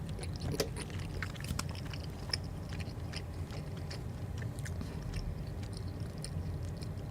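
Close mouth chewing and biting, wet clicking bursts scattered over a steady low hum, picked up by a loud streaming microphone during a live ranked-game coaching session.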